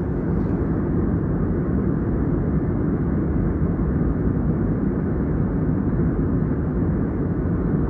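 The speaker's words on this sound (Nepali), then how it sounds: "कति स्पिड उडेको छ यो प्लेन" Steady, loud broadband roar inside a Jazeera Airways airliner in flight from Kathmandu to Kuwait, the engine and cabin noise holding constant without a break and with no voices over it.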